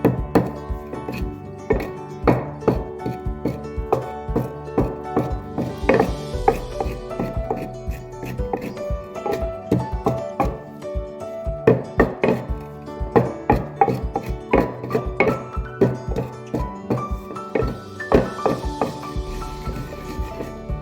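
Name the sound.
crushing ingredients for Ofe Nsala soup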